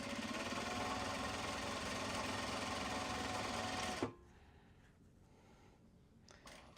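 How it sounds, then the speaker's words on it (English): A sewing machine runs steadily while winding a white bobbin, a loud continuous whir for about four seconds that stops abruptly, leaving a quiet room with a faint click near the end. "I need to wind the next white bobbin, so we don't want to run out of white thread"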